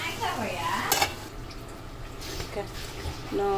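A lid settles onto a pot of dosakaya (yellow cucumber) curry with a metallic clank and a brief rattle as it seats. Light scraping and stirring noises sound close by, and a voice talks over them.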